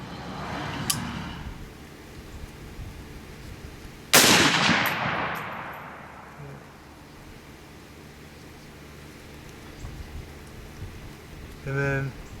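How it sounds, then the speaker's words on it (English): A single loud gunshot from a CMMG MK47 Mutant rifle at an outdoor range, a sharp crack with a long decaying echo, heard once with faint voices and a second softer report nearby. "And then go ahead and shoot, Greg."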